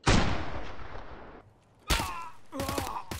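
Gunfire in the video game Escape From Tarkov: a loud burst of shots that tails off into a fading echo, then two sharper clusters of rapid shots with ringing reports close by.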